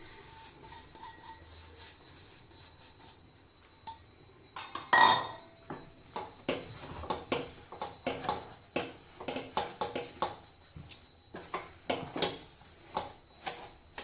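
Sugar being stirred into rava for kesari, a soft scraping and clinking of a spoon against the pan in a steady run of strokes after a brief louder clatter, fairly quiet and close, with no talking.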